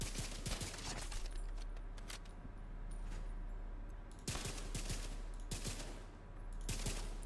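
Rapid gunfire crackles in The Division 2 during build testing, with repeated bursts of sharp shots and brief pauses between volleys, fairly faint and with no talking.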